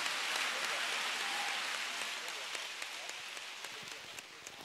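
A church congregation applauds and cheers for Jesus during a Wednesday morning testimony service, a steady wash of clapping and crowd noise that holds for several seconds and slowly eases, with voices mixed in.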